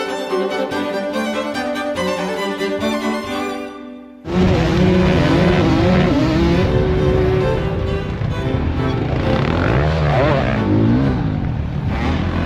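Motocross motorcycles race on a dirt track during the final lap, their engines roaring loud and continuous without a break, following a short opening stretch with a different, quieter sound.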